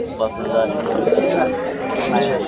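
Pigeons coo at a busy pigeon market in Tangail, their soft calls steady beneath constant nearby chatter and bargaining voices.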